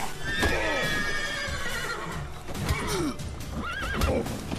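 A horse in the video game Witcher 3 neighs loudly and whinnies several times up close, with clip-clop hooves and busy game noise around it.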